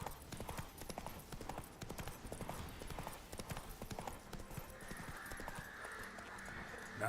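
Roach's hooves in The Witcher 3 beat a steady, fairly quiet clip-clop rhythm throughout as the horse travels, with soft game ambience and a faint tone rising beneath toward the end.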